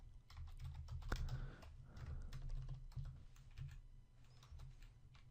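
Steady, quiet clatter of fingers typing code on a computer keyboard, a continuous run of soft key taps over a low background hum, with no voice.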